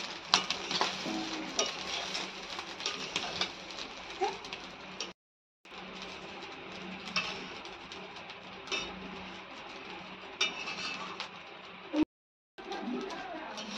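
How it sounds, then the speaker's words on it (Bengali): Basmati rice frying and being stirred in a pan for pulao produces a steady sizzle with scraping and occasional metal clinks, broken by two short silent gaps. "পোলাও বানানোর জন্য চালটা খুব ভালোভাবে ভাজা হয়ে গেছে"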